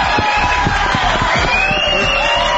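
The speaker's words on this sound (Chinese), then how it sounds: "至少可以帮我鼓掌。" A television studio audience cheers and whoops loudly in a dense, sustained crowd roar, with rhythmic clapping pulses underneath.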